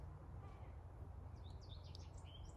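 A big bird calls outdoors, faint chirps and short tweets rising over a steady low rumble of wind or traffic, mostly in the second half.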